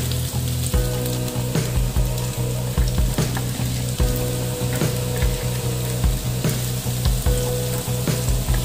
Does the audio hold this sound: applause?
no